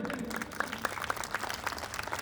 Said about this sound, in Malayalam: നിങ്ങൾക്ക് ഈ പരിപാടി ഇഷ്ടപ്പെട്ടെങ്കിൽ നല്ലൊരു കയ്യടി